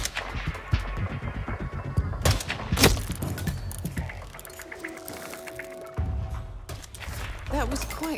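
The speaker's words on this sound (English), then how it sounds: "That was quite the explosion" Sharp blasts and mechanical clatter from the Hitman 2 Sniper Assassin mission at Himmelstein, several loud bangs in quick succession, the strongest near the middle, with metallic ratcheting and a voice speaking partway through.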